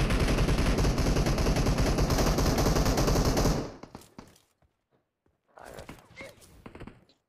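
Rapid bursts of automatic gunfire, likely an M249, in the battle royale game PUBG Mobile: a dense, loud volley runs for several seconds and then cuts off, followed by quieter scattered thuds and shots.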